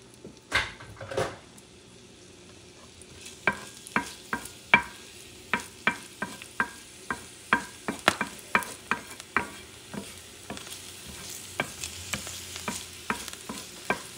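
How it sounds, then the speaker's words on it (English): Onions sautéing in a preheated pan, a soft steady sizzle under repeated sharp scrapes and taps of a utensil stirring, close and fairly quiet. "you want to saute some onions"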